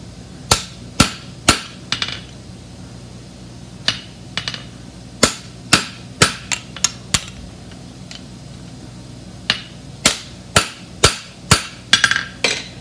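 A hammer stamps a horseshoe for a bar shoe at the forge, ringing out in sharp, loud single strikes and quick clusters of two to four blows spread across the stretch, with no talking.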